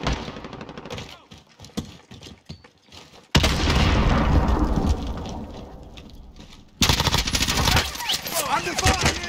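Bursts of rapid gunfire and heavy booming explosions from Call of Duty Warzone, sparse scattered shots at first, then a loud sustained barrage, a brief lull and another dense volley.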